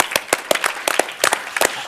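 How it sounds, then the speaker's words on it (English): A few sparse, distinct hand claps from a small conference audience in Amsterdam, sharp individual slaps spaced irregularly, close and fairly loud with quiet gaps between them. "A little applause for Ger."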